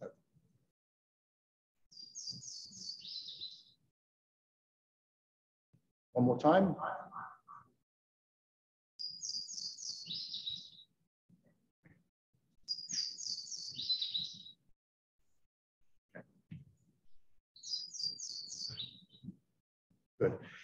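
Louisiana waterthrush song: four bursts of three big bright sliding whistled notes that trail off into a jumble, repeated with pauses; someone speaks briefly in between.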